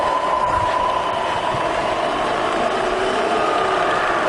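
A Bridgeport milling machine with a Vari-speed head runs in reverse, giving a steady, even mechanical hum and whir with a faint tonal whine, continuous and unbroken throughout at close range.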